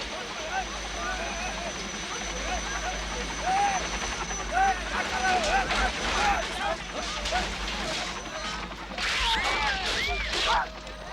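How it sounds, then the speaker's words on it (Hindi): A helicopter flying overhead above a residential area, its low rotor drone humming steadily in the background while people talk over it. "रिहायशी इलाकों के ऊपर हेलीकॉप्टर उड़ाना बैन कर देना चाहिए।"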